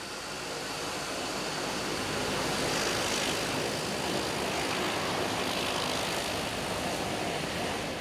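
A propeller airplane flying steadily and loud throughout, its engine drone and broadband rush holding constant with no voices, as for a passenger flight in the Solomon Islands.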